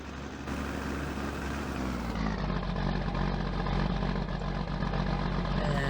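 A tractor engine in Farming Simulator 2019 runs with a steady low rumble that holds at an even, fairly loud level throughout, with no speech.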